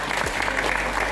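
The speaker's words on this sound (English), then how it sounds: "let's give Crispus a round of applause for a job well done" An audience clapping for a speaker at a financial-education panel discussion in Homa Bay, a brief dense burst of applause heard close and loud.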